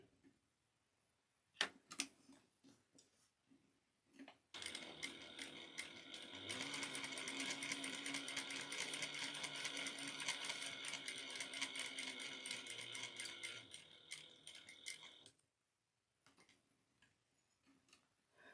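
Juki 5550N sewing machine stitching a zipper pouch, a few single stitches and pauses followed by a long, steady, rapid run of stitching lasting about ten seconds, close and clear, then a stop and light handling.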